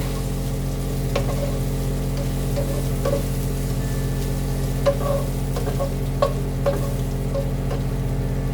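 Mung bean sprouts with tofu and pork fry in a pan under a steady loud sizzle, with scattered clinks and scrapes of stirring close by.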